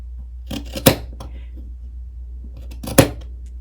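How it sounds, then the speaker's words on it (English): Two sharp, brief scissor snips cut the corner fabric of a waterproof diaper changing pad, spaced a couple of seconds apart over a quiet background. "Then cut away the corner fabric right along the line that you just traced."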